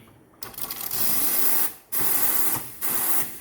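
Steam wand of a secondhand Simonelli Musica espresso machine hisses loudly in three strong bursts, with brief cut-offs between them, after a quieter start.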